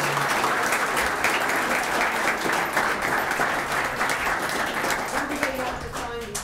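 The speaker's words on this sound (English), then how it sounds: "applause." Audience at a township council meeting gives a sustained round of applause, a thick, even wash of clapping that carries through to the end, with faint voices surfacing late.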